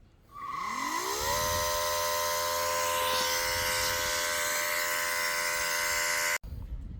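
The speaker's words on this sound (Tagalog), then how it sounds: "lalagay na po natin itong Easy Air Pump 2 natin using the deflate function guys" An Outback Easy Air Pump 2 switches on to deflate an air tent, rising quickly into a loud, steady electric whir that holds for several seconds before a brief cutoff.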